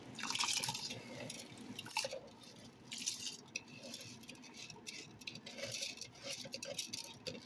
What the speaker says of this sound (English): So now I'm gonna add my rice.